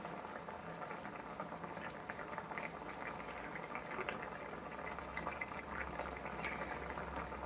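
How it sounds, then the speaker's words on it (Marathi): A pot of matki (moth bean) curry boils with a faint, steady bubbling and simmering hiss that continues evenly throughout, with a soft low rumble toward the end. "आपल्या भाजीला छान अशी मस्तपैकी उकळी आलेली आहे"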